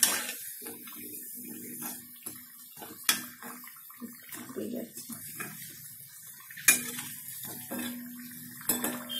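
Potato chops fry in oil over low heat, a bubbling sizzle punctuated by clinks of a utensil against the pan, with someone talking over it at close range.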